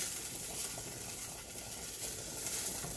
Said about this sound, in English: give these guys a stir